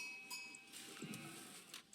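Sheep in the video game Age of Empires 4 bleat faintly amid soft farm-animal game sounds and a gentle bell-like clink, quiet, without voices.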